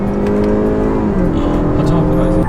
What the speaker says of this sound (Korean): 잠깐만 지금 제가 추월을 할게요